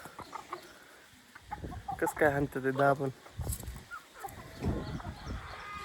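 Farm chickens clucking in short, uneven bursts at close range, with someone talking over them at intervals.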